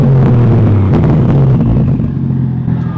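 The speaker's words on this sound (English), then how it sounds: "Give us a little rev." A drift car's engine, just back running after a blown fuse was fixed, roars loudly and continuously up close with a steady low rumble and small surges in pitch, no talking over it.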